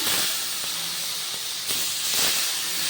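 Jute leaves fry in a pan while being stirred, giving a steady broadband sizzling hiss with a few soft scraping stirs, close and fairly loud, with no talking.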